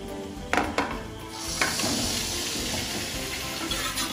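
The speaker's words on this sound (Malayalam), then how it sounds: "അമ്പഴങ്ങ ഇട്ട് കൊടുക്കാം" Hog plums tumble into a pan of oil and chili powder for pickle, a couple of dull drops and clinks followed by a continuous hiss and sizzle as they are stirred.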